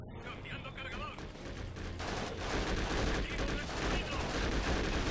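Sustained gunfire from the war video game Conflict: Desert Storm 2, a dense, continuous rattle of automatic weapons and overlapping shots that builds and stays loud throughout.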